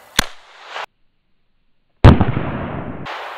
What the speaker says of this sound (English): Gonna shoot 22 long rifle at it.